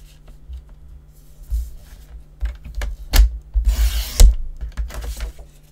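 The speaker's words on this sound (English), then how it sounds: "And now I'm going to cut 5 1/4." Paper being trimmed for a handmade birthday book and card holder: a few sharp cutting strokes and rustles, with a louder slicing burst near the end, close and without talk.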